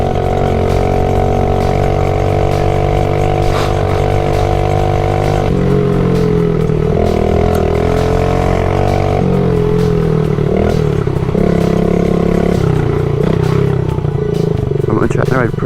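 A motorcycle ridden along a road on a cold day, its engine droning steadily with shifting pitch as the rider eases along, wind and road noise constant and loud throughout, with a voice talking over it.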